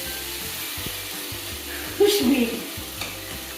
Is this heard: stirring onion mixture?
yes